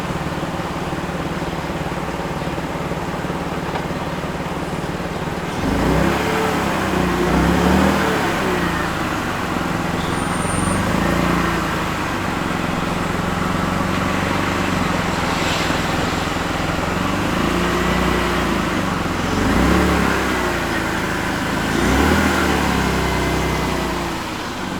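A BMW E46 330ci with a low-hanging bodykit bumper idles, then revs and backs out and pulls away, the motor rising and falling steadily through the whole stretch without talk.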